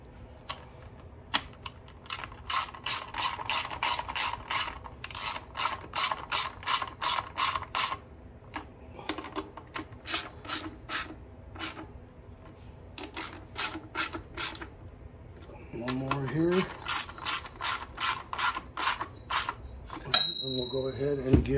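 A ratchet tightens bolts on a NorthStar 10,000-watt generator during a gas-to-propane conversion. Quick, close bursts of clicking come in repeated runs separated by short pauses.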